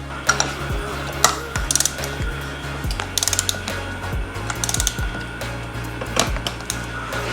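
Engine bolts on a Yamaha YFZ450R top end being torqued to 28 foot-pounds with a wrench, close-up. The mechanical clicks and ratcheting come in irregular bursts over a steady low hum.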